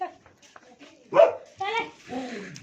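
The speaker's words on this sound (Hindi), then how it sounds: "कुत्ता भी हमें देखकर, अजनबी लोगों को देखकर ज़्यादा ही बोल रहा है।" A dog barks and yips at strangers, a few short loud calls mixed with people talking nearby.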